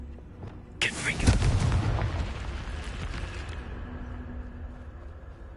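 A Confringo blasting spell bursts in Hogwarts Legacy with a sharp crack followed by a deep booming rumble that slowly decays over several seconds.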